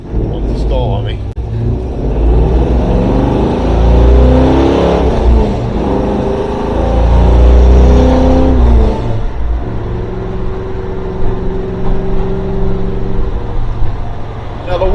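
A 1970s car engine idles rough with the choke still on, a low steady rumble that surges and sags as if about to stall, heard close and continuous under a voice.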